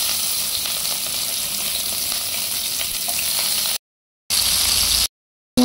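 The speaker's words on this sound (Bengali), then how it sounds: "আমি পেঁয়াজ দিয়ে দেবো" Onion sizzles in hot oil with bay leaf and cardamom, a steady close crackling fry that cuts out abruptly twice near the end.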